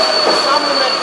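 Small metro cars on a Budapest underground line rattle and squeal along the rails, a steady loud close rumble with a sustained high wheel screech throughout.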